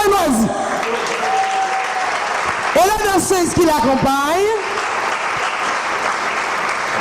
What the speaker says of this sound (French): Mesdames, mesdemoiselles et messieurs, applaudissez chaudement